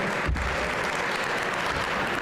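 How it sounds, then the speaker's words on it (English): An audience at a Music in the Schools Month press conference applauds children who have just performed; the clapping is thick and continuous, with a sharp accent near the start. "So let's hear some great applause to the kids behind us."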